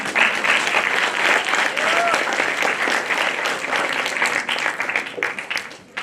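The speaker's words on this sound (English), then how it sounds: "Start the claps." Loud, dense audience applause and clapping fills the room, sustained and close, with some crowd noise mixed in before tapering off near the end.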